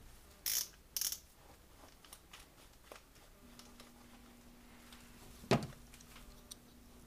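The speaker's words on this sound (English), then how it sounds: "take your screwdriver and unscrew it as best as you can" A screwdriver working a screw out of a 2x2x6 twisty puzzle's type 2 core, heard as a few sharp close clicks and faint ratcheting ticks spread over quiet stretches, with a low steady hum in the middle.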